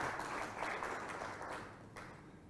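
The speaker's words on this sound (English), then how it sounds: "Please, a round of applause again to Betty for..." Faint, distant audience applause at an inauguration and planning meeting, a soft steady patter of many hands that gradually thins out toward the end.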